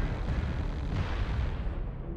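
An incoming missile explodes in the video game MechWarrior Online, giving a loud, rumbling blast with heavy low-end roar that tails off gradually toward the end.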